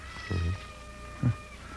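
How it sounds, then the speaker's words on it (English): A cat meows twice in a room, each meow short and fairly close, with a quiet pause between them and a faint background hum. "There's her cat."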